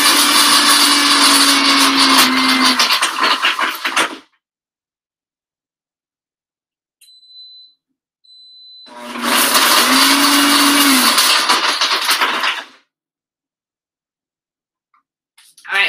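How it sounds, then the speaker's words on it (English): A kitchen blender blending a bacon chocolate mixture runs loudly in two long bursts of about four seconds each, with a quiet pause and a faint click between them. "I got to put the blender on."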